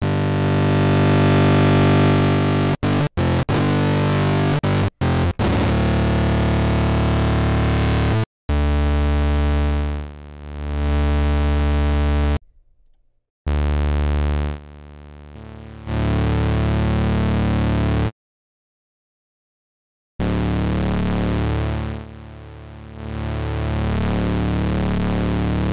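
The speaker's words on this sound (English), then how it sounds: "The power distortion is really over the top." A basic square-saw wave synth pushed through heavy, over-the-top power distortion in the Satyrus plugin, playing loud sustained buzzing tones in several separate phrases broken by abrupt silences.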